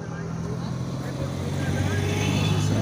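Motorbike engine humming steadily while riding near Kohima, a droning tone with wind rush, gradually growing a bit louder.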